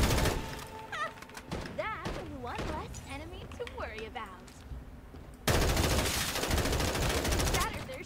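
Gunfire in the Farlight 84 video game, rapid bursts of shots in the first half and then a dense, loud continuous barrage, with a person talking over it.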